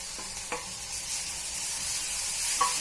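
Tomato paste frying in hot oil with potatoes for masala aloo, a steady soft sizzle throughout with a couple of brief stirring scrapes near the start and end.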